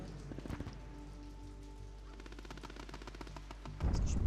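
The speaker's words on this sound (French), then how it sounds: "c'est le bruit de la pluie" Steady rain pattering in the video game Breakfall: Nuclear Winter, a dense hiss with a sharp burst near the start and rapid crackling taps, over faint background music, swelling louder at the end.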